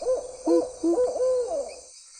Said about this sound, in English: sometimes if I listen closely, I can hear that hoot.